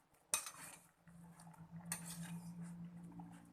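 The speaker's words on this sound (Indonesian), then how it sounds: "Diaduk lagi ya, supaya semua bumbu dan terong dapat tercampur sempurna." Eggplant simmering in broth is stirred in a pot with a utensil, giving two sharp clinks against the pot over a low, steady bubbling hum, quiet and close.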